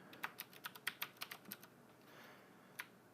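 Typing on a computer keyboard: a quick burst of about a dozen close, crisp key clicks, then a short pause and a single final tap, with no talking.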